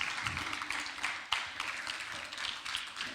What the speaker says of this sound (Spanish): Dele ese aplauso al Señor Jesucristo.